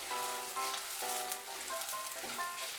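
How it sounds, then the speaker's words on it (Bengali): Ginger sizzles and fries in a pan while being stirred for a pumpkin-leaf sabji, a steady loud hiss with scraping stir sounds running throughout. "আদাটা দেওয়ার পরেও আর একটু নাড়াচাড়া করে নিব।"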